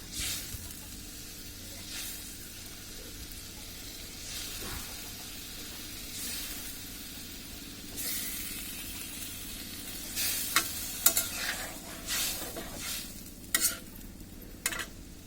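Steady frying sizzle with intermittent stirring and scraping, several sharp hissing bursts as pieces of fried pangas fish drop into hot curry; no voices.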